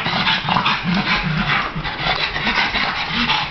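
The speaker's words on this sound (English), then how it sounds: "The dog speaks." A happy female dog whimpers and pants steadily up close, soft whines and rapid breathing running continuously without pause.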